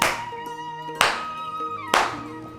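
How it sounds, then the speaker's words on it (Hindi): Three loud, sharp hand claps spaced about a second apart, each one ringing briefly in a reverberant room. "7 बार पढ़ने के बाद आपको 3 बार ताली बजानी है इस प्रकार से"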